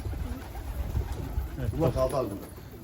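Çorum Mardin pigeons cooing near a rooftop loft, soft low throaty coos repeating in the foreground while someone speaks intermittently.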